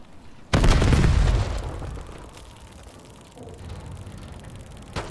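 A frag grenade detonating in a Call of Duty match, a sudden loud boom with a rumbling tail that fades over about a second, followed by quieter game ambience and a sharp pop near the end.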